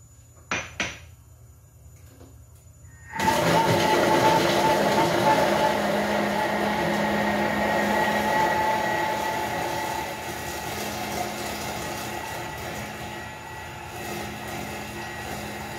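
A Thermomix blends pesto at speed 6 while olive oil is slowly poured in. After a quiet start with a couple of clicks, a loud, steady motor whir takes over and runs continuously to the end.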